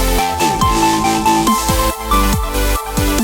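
Smoother chillstep lead synth patch from Reason's Thor, playing a gliding melody over a steady beat with a thumping low pulse and pitch-sliding bass notes, loud and continuous with no voices.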